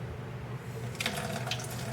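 Tap water runs at low pressure over a tie-dyed shirt being rinsed, a steady close hiss with brief splashy bursts as the fabric moves under the stream, no voices.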